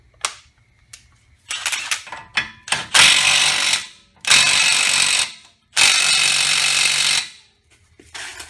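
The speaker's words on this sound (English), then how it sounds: "I'm going to go ahead and tighten this one with the gun" An air impact gun tightens a nut on the front wheel hub of a Honda Civic during a wheel bearing job, with short mechanical rattles followed by three long, loud sustained bursts separated by brief pauses.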